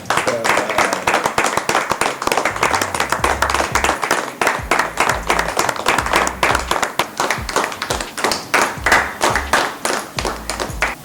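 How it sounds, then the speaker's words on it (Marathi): An audience claps for a proposal at a gathering of Pandharpur wari devotees, a sustained round of many hands beating fast and close throughout. "त्या दादांचं कौतुक म्हणून आपण आधी त्यांचं टाळ्या वाजून कौतुक करू"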